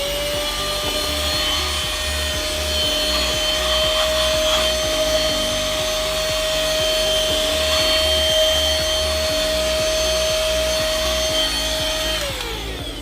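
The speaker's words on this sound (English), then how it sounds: "it is actually a good vacuum cleaner" A small rechargeable handheld vacuum whirs steadily with a constant high-pitched motor whine, close and loud, winding down at the very end.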